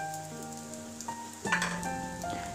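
Shrimp vegetable fried rice sizzles steadily in a pan as it is gently stirred, with a soft scraping flare midway, while background music plays throughout.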